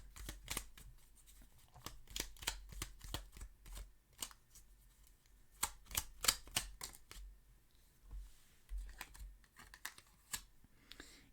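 Oracle cards being shuffled and drawn from a shadow work deck, a close run of quick papery riffles and flicks in uneven bursts, with short pauses between and no talking.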